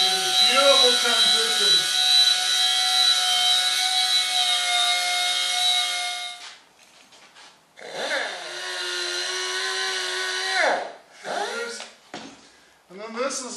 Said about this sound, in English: Belt sander. Notice how thin the belt is.